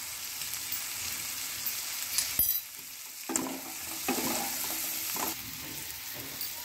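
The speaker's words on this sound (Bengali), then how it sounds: "30 সেকেন্ড এটা কষার পর আমি প্রথমে যেটা ভাজা মশলা রেডি করে নিয়েছিলাম সেটা দিয়ে দেবো।" Potato curry with peas sizzles in a pan as fried spices are stirred in, a steady hiss broken by a few scraping stirs and clinks, close and alone.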